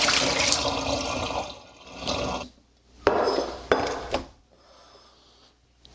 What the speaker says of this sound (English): pull out your inner pot, and let it drain well